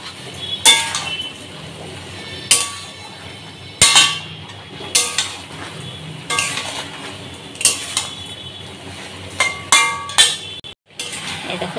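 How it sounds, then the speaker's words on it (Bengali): Shukto vegetables stirred in a pot with a metal spoon, close-up clanks and scrapes against the pot coming in irregular bursts about every second or two over a faint hum. "এই দেখো এটা ভালো করে নেড়ে চেড়ে নিলাম।"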